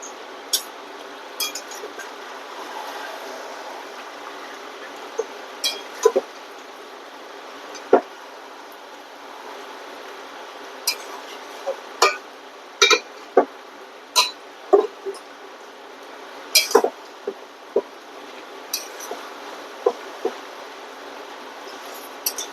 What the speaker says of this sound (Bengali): আবার ঢাকনা খুলে নাড়াচাড়া করে নেব